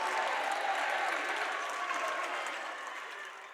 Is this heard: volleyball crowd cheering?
yes